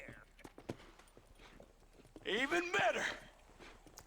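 Horse hooves clip-clop in Red Dead Redemption on PS5, a scattered run of soft knocks. Someone briefly speaks over them midway.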